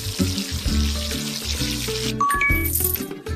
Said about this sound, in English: First, wash my hair.